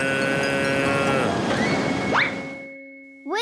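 Cartoon cows give drawn-out, low lowing calls against a busy animated music score, then a short rising cartoon sound effect, a brief pause and a fresh swell of music near the end.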